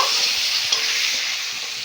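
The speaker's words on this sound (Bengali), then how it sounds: "টমেটো আর পেঁয়াজ বেশ ভালো করে একটু ভেজে নেব" Tomato and onion fry in a pan with a loud, steady sizzle, up close, while a spoon stirs them briefly.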